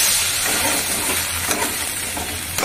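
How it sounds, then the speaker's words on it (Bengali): Fish curry made with garlic, papaya and gourd simmers in a pot, giving a loud, steady, close sizzling and bubbling hiss that continues without break. "এটা একটু ফুটুক, বুঝলে, মাছের একটা গন্ধ থাকে তো, এক্সট্রা গন্ধটা চলে যাবে"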